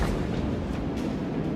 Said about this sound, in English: Expeditious reload. Torpedoes go.